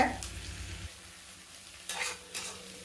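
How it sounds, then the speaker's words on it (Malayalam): Onions fry in hot oil with a quiet, steady sizzle, interrupted by a few short stirring scrapes in the pan. "എണ്ണ നല്ലോണം ചൂടായി. ഞാൻ ഉള്ളി ഇതിലേക്ക് ഇട്ട് കൊടുത്തിട്ടുണ്ട്"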